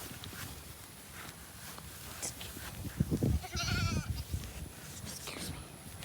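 A female goat bleats in a wavering cry, with snorts and rustling hoof movement around it on a farm; a person speaks faintly nearby.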